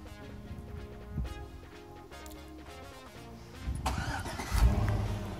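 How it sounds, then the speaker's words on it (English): A car engine cranks and catches, then settles into a low idle with a slight rev, heard from inside the car on an evening outing. "back in the car to our next destination."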